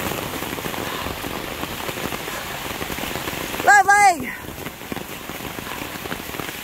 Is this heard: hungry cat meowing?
no